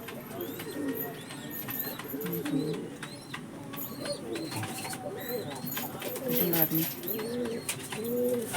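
A female pigeon coos repeatedly in a pigeon loft, the soft, rolling calls close and fairly loud, overlapping with other birds' chirps and coos in the background.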